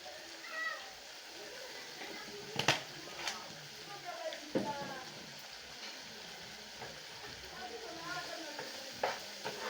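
Kenyan omena fish paste with added seasoning is stirred and fried in a pan, giving a faint, steady sizzle broken by scraping stirs and occasional clacks of a spoon.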